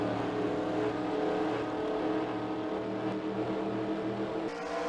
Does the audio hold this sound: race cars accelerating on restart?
yes